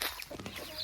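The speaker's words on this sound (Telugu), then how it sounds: "ఇక్కడ కోడిలు చూడండి." Chickens and small chicks cluck close by outdoors on a farm, a short burst of busy overlapping clucks and peeps with no talk.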